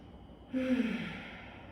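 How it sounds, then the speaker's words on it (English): A single slow, deep breath exhaled softly and close during a yoga child's pose, rising after a quiet moment and fading out gradually. "Take 3 deep breaths here"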